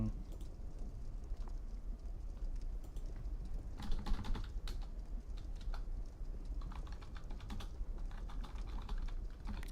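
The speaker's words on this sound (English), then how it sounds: "don't know if you can hear me typing" Typing on a computer keyboard during a Dark Souls 2 gaming session, a steady rapid clatter of keys at low level over background noise, with no talk.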